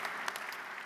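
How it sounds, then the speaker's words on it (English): Brief burst of audience clapping during a talk, a dense patter of many hands at moderate loudness, short and steady. "You can clap if you want to."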